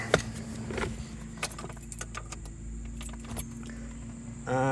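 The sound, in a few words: ignition key turned in a 1986 Jaguar V12 XJS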